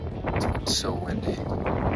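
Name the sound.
strong wind on Mount Kilimanjaro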